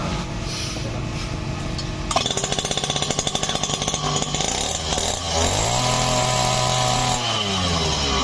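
A small two-stroke Komatsu water pump engine, running on a 25:1 fuel mix, buzzes loudly and steadily, revving up and down, with a rough, rattling idle at the start before climbing to a higher whine.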